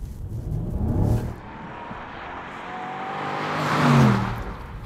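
A 530-horsepower BMW M550i xDrive saloon under way, its engine note rising and falling as it accelerates, loud and close with a surge near the end, no voices over it.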